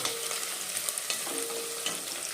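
Tomato masala is stirred in a hot pan, a continuous sizzle with scraping strokes at a steady rhythm, close and fairly loud, with no talking.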